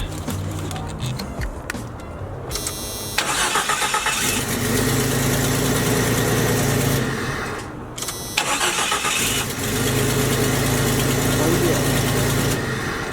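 A Jeep engine with a new neutral safety switch cranks, catches and settles into a loud, steady, close idle. The idle dips briefly once and then continues, with a voice heard near the start.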